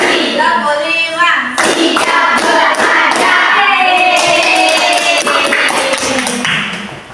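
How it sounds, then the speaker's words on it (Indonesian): A class of Indonesian pupils claps in a counted routine led by the teacher, building from single claps up to groups of five. The sharp claps are close and loud, and a voice calls out the counts between them. "Tepuk satu, tepuk dua, tepuk tiga, tepuk empat,"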